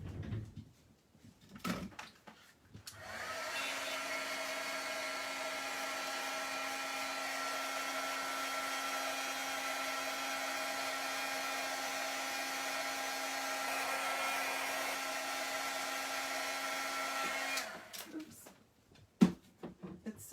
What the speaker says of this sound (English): I'm just going to put the heat tool to it and it will melt that embossing powder